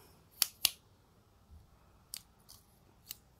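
Several crisp scissor snips, two close together early and a few lighter cuts spaced out after, with quiet gaps between.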